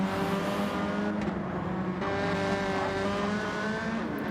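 Front-wheel-drive GR4 race cars in a racing video game braking hard down a hill at Mount Panorama, a continuous droning engine note with shifting pitch and faint tire noise.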